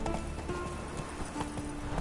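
Hoofbeats of Roach, Geralt's horse in The Witcher 3, a steady rhythmic clip-clop of a trotting horse at moderate distance, low in level, over a faint background hum.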